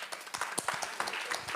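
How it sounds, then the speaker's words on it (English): Brief, moderately quiet audience applause at a startup demo day, a patter of individual claps over a short stretch. "Applause."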